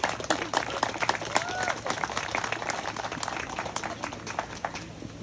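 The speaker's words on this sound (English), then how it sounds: "Let's give a huge, rousing round of applause for Tina Capetta." Audience applause in a room welcoming a park superintendent at a historic preservation awards ceremony for the Chesapeake and Ohio Canal, steady dense clapping sustained for several seconds at moderate level.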